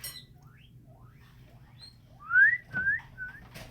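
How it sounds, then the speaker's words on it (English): Several short rising high-pitched whistles from a small guinea pig indoors, faint chirps at first then a few louder squeaky calls in a row over a low household hum. "Do you hear the little guinea pig whistles?"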